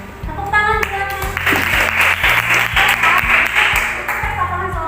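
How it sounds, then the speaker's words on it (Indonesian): Steady applause from a group, a dense patter of clapping that holds for several seconds, with a faint tonal musical sting at the start. "Tepuk tangan silakan."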